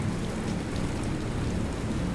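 Heavy rain pours steadily on a hillside during a thunderstorm, a loud, even hiss with a low rumbling underneath and no break for the whole stretch.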